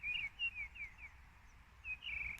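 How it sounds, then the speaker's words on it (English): Birds sing on a quiet hill overlooking Church Stretton, with repeated bright chirping phrases coming from a short distance over a low outdoor rumble. "Nice and quiet, just the birds sounding"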